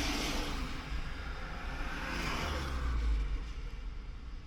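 A taxi pulls away and drives off on a Kyiv street, with a steady low engine rumble and broad road and tyre noise that swells slightly partway through.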